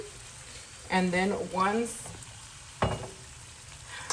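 Tortillas frying in hot oil for homemade green enchiladas, a steady soft sizzle running underneath as a voice talks in short phrases.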